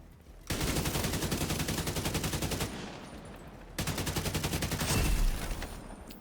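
Sustained rapid automatic gunfire from a game set in a Division-style mission, loud and continuous bursts with a short pause around the middle before firing resumes, no talking.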